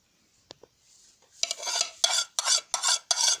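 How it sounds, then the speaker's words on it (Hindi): Beaten egg being stirred into a masala mix for shimla mirch chicken kababs in a bowl, several wet scraping strokes in quick rhythmic bursts close by after a few faint clinks, no talking. "अब इस अंडे को हम इस मसाले में मिक्स करेंगे"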